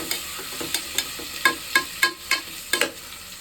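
Ingredients sautéing in a pan give a low sizzle under a steady run of about ten sharp spatula scrapes and knocks, evenly spaced and close by, with no one speaking.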